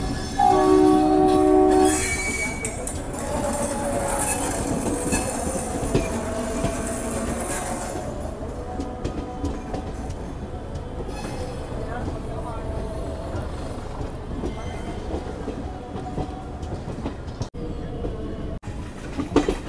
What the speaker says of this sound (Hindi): और ये आ रही है सामने से हमारी राजधानी एक्सप्रेस